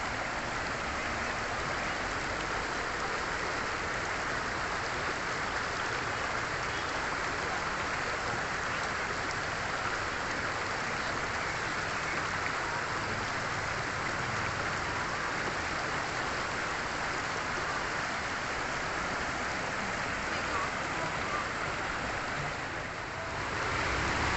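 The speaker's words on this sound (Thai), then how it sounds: "น้ำไหลแรงมากเลยนะคะ น้ำไหลแรงมาก" Strong mountain stream at Khiri Wong village in Thailand rushing over big rocks, a dense, constant roar of flowing water heard up close and alone for the whole stretch.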